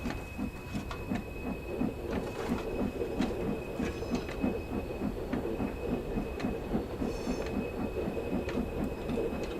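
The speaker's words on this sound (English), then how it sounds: "Now she's starting to chug. I love the sound of steam trains." A steam locomotive in Train Sim World 4 chugs in a steady, even rhythm of exhaust beats, moderately faint and continuous, with no talking.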